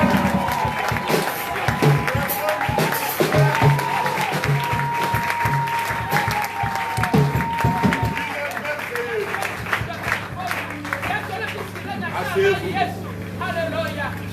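A church congregation applauds and cheers in praise of the Lord, dense sustained clapping with shouts and crowd voices filling the room, a voice speaking over it.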